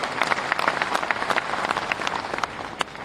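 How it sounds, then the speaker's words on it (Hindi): Audience applause at a BJP party executive meeting, many hands clapping in a fairly loud, slightly uneven patter with a few sharper individual claps standing out. "एक बार ताली बजा दें मेरे साथ आप सब"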